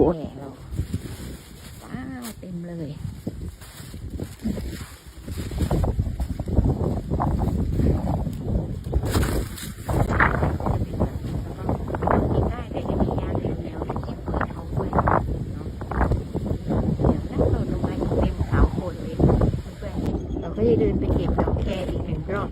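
Wind buffets the microphone outdoors beside a path, a loud continuous rush under someone speaking throughout.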